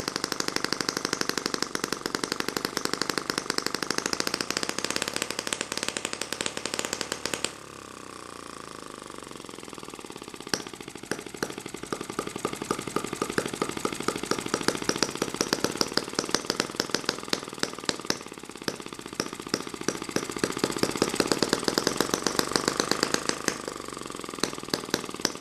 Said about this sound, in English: This little engine wants to run with a load.